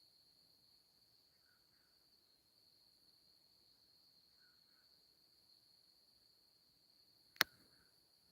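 Crickets chirping at night outdoors, faint and steady in short repeated bursts against a quiet background, with one sharp loud click near the end.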